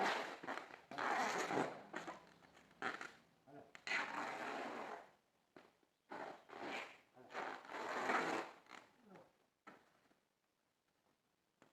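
Packing tape pulled off a roll and pressed onto a TVS Apache RR310 motorcycle during packing for a move, heard as repeated loud rasping bursts with short pauses, fairly close.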